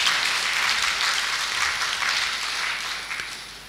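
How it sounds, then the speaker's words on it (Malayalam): An audience at a Christian sisters' prayer retreat at Carmel Mount, Changanassery claps together in thanks, producing a steady wash of applause that gradually thins and fades toward the end. "ഒന്ന് കൈയടിച്ച് കർത്താവിന് നന്ദി പറയാം"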